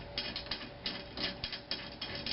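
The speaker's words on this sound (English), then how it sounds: "go around to all the screws and just finger tighten them" Tension screws on a drum head turn under finger tightening, giving a steady run of close, rapid ratcheting clicks in repeated bursts with no talk.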